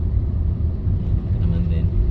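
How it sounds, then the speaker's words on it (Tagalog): A vehicle reverses through flood water in a flooded town, its engine a steady low rumble close by, with people talking over it. "Atras yung sasakyan."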